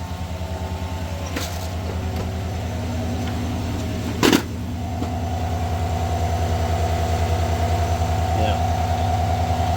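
A 2019-or-later Chevrolet Silverado engine idles with a steady, even low rumble after its serpentine belt and idler pulley were replaced; one brief sharp knock breaks through midway.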